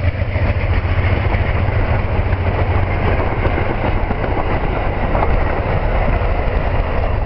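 An Amtrak P42DC diesel locomotive leading a passenger train rumbles past close by, a steady loud engine drone with rail clatter running throughout, no voices.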